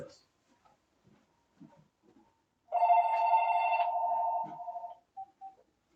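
Office desk phone giving a reminder ring, one sustained electronic trill lasting about two seconds, then two short beeps. Faint background noises come before it.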